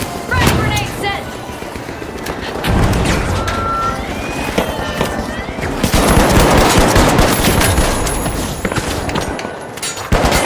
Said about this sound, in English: Frag grenade sent!